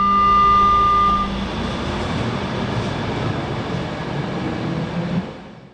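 A Vienna S-Bahn S45 train on the Vorortelinie runs along with a steady rolling rumble and faint whining tones inside the carriage, easing off toward the end.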